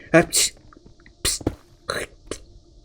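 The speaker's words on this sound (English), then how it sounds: "I think she's sneezing" A Minecraft villager in a modded game gives several short, sharp sneeze-like bursts, separated by brief pauses and small clicks.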